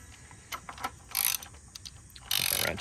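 A ratchet wrench tightens the oil drain plug on a Jeep, giving quick bursts of close, sharp clicking, with a longer run of clicks at the end.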